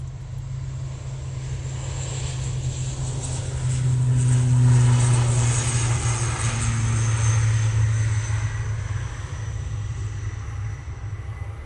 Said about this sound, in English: this prop. It's going to turn and burn. Off to Belfast they go.